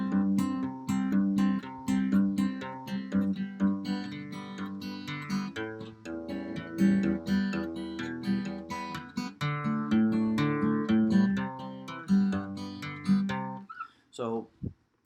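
A guitar is finger-picked at full speed in a boom-chick pattern, alternating bass notes with strummed treble chords in a steady, bouncy rhythm for several bars before ringing to a stop.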